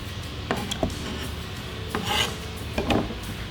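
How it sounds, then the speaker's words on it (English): A kitchen knife slices a flat surface on a pepper against a wooden cutting board, producing soft rubbing cuts and several sharp taps spaced irregularly, close and quiet, with no talking. "Now I want to cut a flat surface on my pepper."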